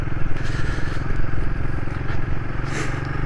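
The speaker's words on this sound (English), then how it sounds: "I'm glad this bike's got engine braking." Royal Enfield Himalayan motorcycle ridden off-road at an adventure bike festival, engine braking with a steady low rumble throughout, close and loud, with some scraping and clatter from the terrain.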